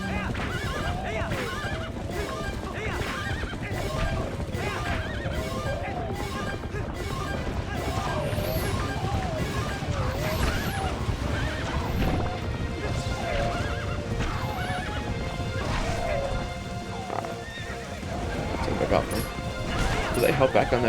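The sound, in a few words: horses neighing and galloping in video game Zelda Twilight Princess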